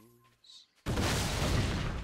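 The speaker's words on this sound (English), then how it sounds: "I was too far away from the explosion." A video game explosion in Assassin's Creed 3 erupts suddenly after a brief quiet stretch with a faint tone, becoming a loud, sustained rumbling blast that fills the rest of the moment.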